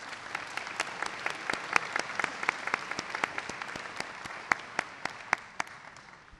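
An audience applauds at a graduation ceremony, with scattered individual claps ringing out sharply in a hall over a softer bed of clapping that thins toward the end.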